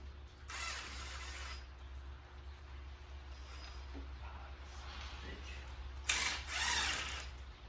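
Ratchet wrench with a quarter-inch socket turning bolts while a 345 engine is torn down in a workshop: two bursts of rapid clicking, near and fairly quiet, over a low steady hum.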